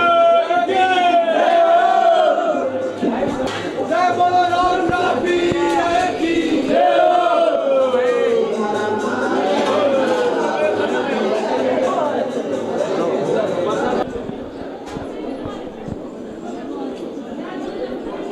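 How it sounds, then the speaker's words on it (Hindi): A crowd of devotees at Baba Ramdev's samadhi in Runicha Dham, a dense murmur of many voices with someone speaking prominently over the chatter, busy and close throughout. "बाबा के दरबार में हर वक्त भीड़ लगी रहती है भक्तों की"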